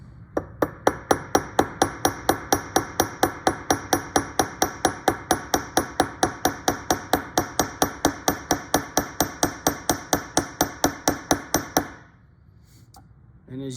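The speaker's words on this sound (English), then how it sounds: "I'm gonna hit the hammer right there, and it's going to flatten that surface." Rapid, evenly spaced hammer blows striking a small metal pin to mushroom its end for a key chain, dozens of sharp ringing taps in quick succession, close and loud, stopping suddenly near the end.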